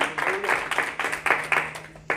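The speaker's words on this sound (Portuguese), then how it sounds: "dá salva de palmas para Jesus" A church congregation claps in a short burst with a loose, uneven rhythm of distinct hand claps, close and moderately loud, fading briefly before a final clap.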